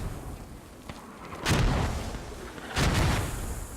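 Mortar shells slam into an Ewok-village area during a competitive online shooter match, two loud booming explosions a little over a second apart over a steady rumbling battle background.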